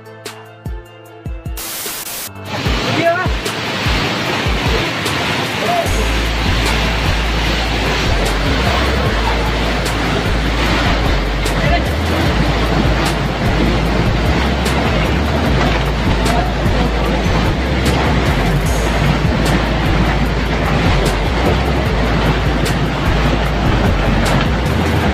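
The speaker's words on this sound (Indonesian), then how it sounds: "banyak batang pohon yang ikut hanyut diseret arus banjir yang mengerikan" Flash flood torrent roaring down a river and dragging tree trunks along, a loud, continuous rushing wash of water recorded close by, with wind buffeting after a brief start.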